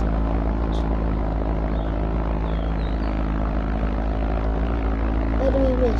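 A propeller airplane engine drones steadily in a flight simulator video game, a constant loud hum with no break.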